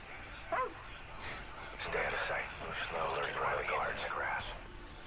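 Dog barking in the Call of Duty Ghosts video game, a short yip near the start followed by game noise and a person talking over it.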